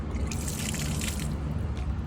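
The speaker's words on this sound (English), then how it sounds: "fresh water comes out from there. So just turning that opens up your freshwater tank drain." Fresh water pours and trickles steadily from the opened tank drain of a Kon-Tiki 649 motorhome, a continuous splashing stream with no talking.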